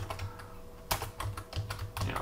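Typing on a computer keyboard, a quick run of close, crisp key clicks with uneven rhythm over a short stretch.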